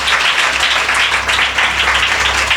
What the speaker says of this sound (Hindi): कमान, जोर से ताली बजाएंगे यीशु के लिए।